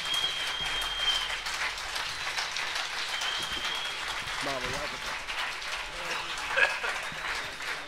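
Sustained audience applause at a jazz concert in Milan, dense steady clapping from a crowd with a few shouts and voices mixed in, lasting throughout.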